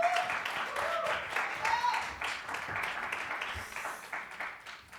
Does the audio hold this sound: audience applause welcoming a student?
yes